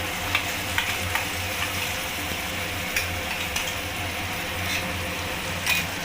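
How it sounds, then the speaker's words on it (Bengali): Mustard-poppy paste being stirred into a simmering pabda fish curry, a soft continuous sizzle and bubbling with light, irregular scrapes of a spoon against the pan. "সর্ষে পোস্ত দিয়ে আমি ভালো করে নাড়িয়ে নিয়েছি"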